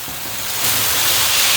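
Soya meat string hopper kottu, made with red rice flour string hoppers, is stirred in a pan, giving a continuous, fairly loud hiss of frying and scraping that swells slightly after the first half-second.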